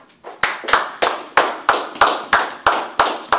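A church congregation clapping during a French-language service, about ten sharp claps in a steady, evenly spaced rhythm, loud and close with no talking over them.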